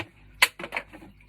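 A toy gel blaster shooting gel balls, a sharp close snap followed by a few quicker, softer clicks and rattles.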